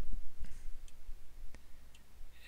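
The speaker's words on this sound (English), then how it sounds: "The right click." Mouse clicks during Wings3D 3D modeling work, a few sharp, faint ticks spaced unevenly, close and quiet against a low background hum.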